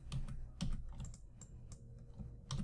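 Computer keyboard typing with a Control Z shortcut, a few separate clicky keystrokes spaced out over a low background hum, close and fairly quiet.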